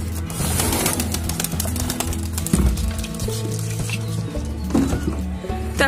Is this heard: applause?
no